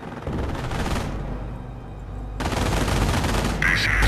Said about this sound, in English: Headquarters is reporting enemy fire